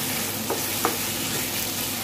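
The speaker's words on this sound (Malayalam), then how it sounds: "നല്ലോണം ഒന്ന് എല്ലാ സ്ഥലവും ഒന്ന് ഇളക്കി കൊടുക്കുക." Chicken chukka sizzles steadily in a hot pan while being stirred, with a couple of soft scraping stir sounds rising above the constant frying hiss; no one speaks.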